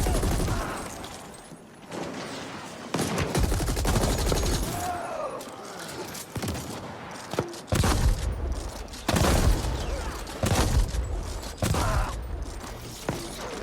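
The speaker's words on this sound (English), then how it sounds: "He just keeps shooting mortars at me." Mortar fire and combat in the video game The Ascent, a dense, loud barrage of repeated booming blasts and gunfire bursts layered over a continuous game soundscape, with no voices.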